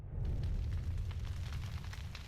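A bomb detonation in the sandbox game WorldBox rolls out as a continuous deep, rumbling roar with a crackling, fiery texture, steady and heavy throughout.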